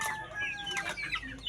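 A sick backyard chicken under treatment for fowl pox, clucking in a string of short, close, fairly loud calls with a few higher, harsher notes.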